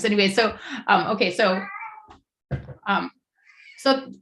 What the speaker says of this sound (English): you might hear my cat in the background